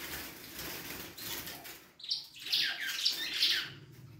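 A female Brazilian native canary (canário da terra) gives short calls and a burst of wing flapping while mating, with soft rustling first, then a few close, bright chirps near the end.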